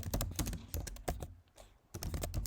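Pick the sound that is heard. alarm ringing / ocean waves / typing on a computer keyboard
typing on a computer keyboard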